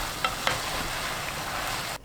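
Bean sprouts and shrimp stir-frying as starch water is mixed in, giving a dense continuous sizzle with two quick scraping stirs early on before it cuts off.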